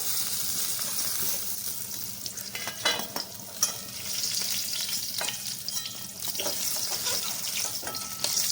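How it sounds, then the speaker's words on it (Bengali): Eggplant pieces fry in oil in a wok for a pickle-style Bengali dish, giving a steady close sizzle with intermittent scraping and stirring clatters throughout. "উল্টে পাল্টে বেগুনগুলোকে খুব ভালো করে ভেজে নিয়েছি।"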